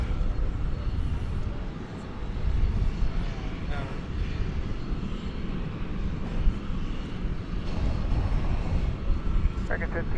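Airliner taking off from runway 18 left at DFW Airport at night, a broad continuous engine roar rising and holding at moderate distance, with faint radio chatter over it.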